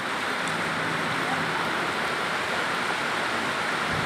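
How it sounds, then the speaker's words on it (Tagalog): Heavy rain pours down in a dense, constant hiss that fills the whole stretch evenly and loudly, with no pauses. "At sinasabayan pa ito ng napakalakas ng ulan"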